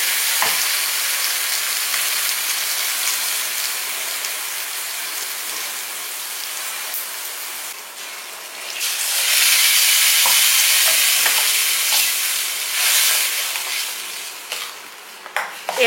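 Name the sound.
ground chutney paste frying in a pan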